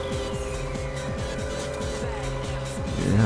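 A car drifts in Ridge Racer 7, its engine droning loudly and steadily with stepping gear-shift sweeps, building to a louder tire-screech surge at the end.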